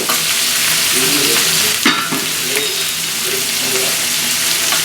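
Drumstick leaf curry with turmeric is stirred in a pan, producing a loud, close, continuous sizzle with a few rough scraping strokes and no voices.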